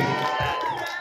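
Village supporters at an Independence Day qasidah competition raise a short, lively burst of cheering and shouting, close and crowded.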